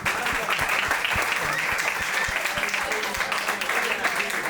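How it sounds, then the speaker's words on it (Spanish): An audience applauds at a comedy podcast taping, a dense, lively round of clapping with a few sharp nearby claps and some voices mixed in underneath. "Aplauso, por favor."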